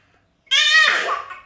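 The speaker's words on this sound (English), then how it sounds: "You fake sneezing." A toddler's fake sneeze bursts out after a short silence, one loud, bright, voiced "achoo" that trails off into breathy noise, heard alone and close.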